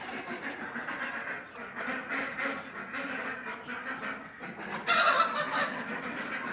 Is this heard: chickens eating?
yes